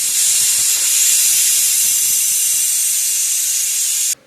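Loud, steady hiss of steam rushing out of a pressure cooker cooking rice and vegetables, close up and continuous for about four seconds before cutting off abruptly.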